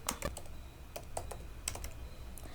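Someone types on a computer keyboard in short, scattered bursts of quiet clicking keystrokes, with several distinct taps heard close up and alone.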